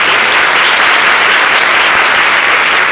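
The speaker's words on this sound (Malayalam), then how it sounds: "അങ്ങനെ ആഗ്രഹമുള്ള ആർത്തിയുള്ള കുഞ്ഞുങ്ങളൊന്ന് കൈയടിച്ചു കേട്ടാൽ കൊള്ളാം" Loud, continuous clapping from a crowd at a devotional yajna gathering, a dense, even wash of many hands close by.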